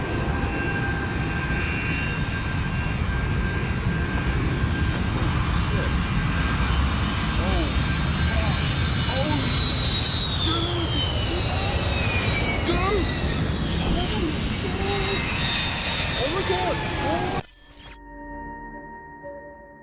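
A large, heavily laden airplane roars overhead at a campsite with a loud, sustained jet-engine rush and a slowly falling whine, ending abruptly as quieter ambience takes over.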